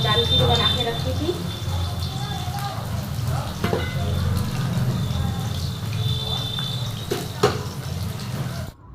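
Potatoes shallow frying in a pan sizzle steadily and up close, with occasional clinks of utensils and splashy kitchen sounds over the hiss.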